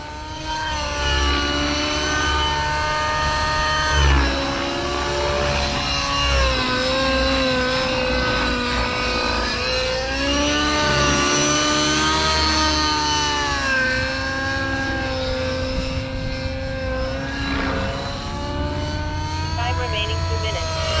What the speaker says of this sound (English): Feels so good to finally fly this helicopter.